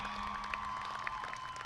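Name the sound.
audience applause for students at graduation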